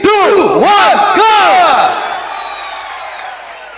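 A large crowd at the 2023 Puttur Pili Gobbu tiger dance competition roars and whoops loudly and up close, then the cheering fades into a softer, sustained crowd murmur.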